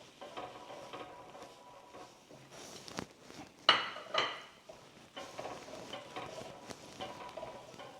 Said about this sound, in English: you are using a spatula or a nice spoon to just scrape away from the edges